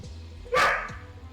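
A single sharp bark from a dog in the Monster Hunter World video game, close and loud, standing alone over a low game hum.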